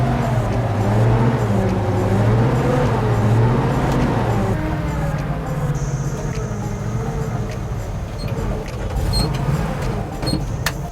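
A vehicle engine running on gas rather than petrol, idling steadily with a continuous droning hum and a faint high whine, heard close and alone.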